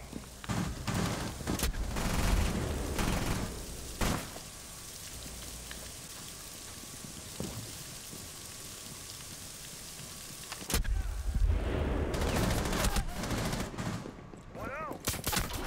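Gunfire in the tactical shooter game Rainbow Six, bursts of shots and loud impacts near the start and again around the eleven-second mark, with quieter game ambience between and light talk underneath.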